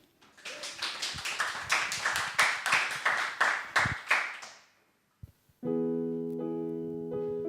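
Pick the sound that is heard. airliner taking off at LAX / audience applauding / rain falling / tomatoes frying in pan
audience applauding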